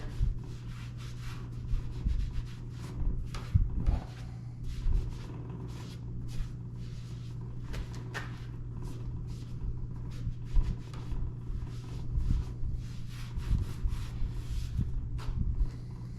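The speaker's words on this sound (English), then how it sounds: "Just gonna rub a little bit of oil on the front of it here." A cloth rubs oil onto the front of an antique Massey No. 17 wooden vise, making close, soft, uneven rubbing and brushing strokes over a low steady hum, with no talking.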